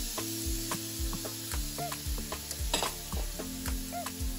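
Garlic and ginger frying in a pan for a chicken and tomato sauce dish crackle with a close, steady sizzle, punctuated by rhythmic scraping strokes of stirring, with no talking.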